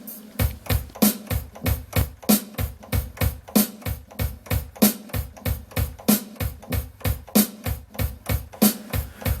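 A punchy, repeating drum beat loop made by turntable beat juggling, with sharp hits and a steady, chopped rhythm, playing continuously without any talking.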